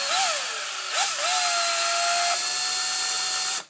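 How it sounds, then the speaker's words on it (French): A power drill fitted with a cheap bit bores a small hole in a Canon ink cartridge, giving a loud, steady high whine that rises briefly twice at the start, then holds for about three seconds before cutting off. "Alors petit trou à la perceuse."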